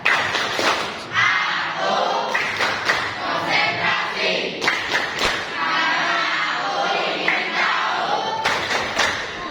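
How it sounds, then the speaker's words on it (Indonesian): A school class performs a rhythmic concentration clap, with groups of sharp claps and thumps mixed with children's chanting voices in a lively room. "Sekarang tepuk konsentrasi."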